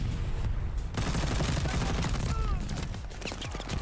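G43 rifle fire and other rapid gunfire crackle through a dense, continuous Call of Duty: Vanguard battle soundscape of shots and explosions, with no clear talking.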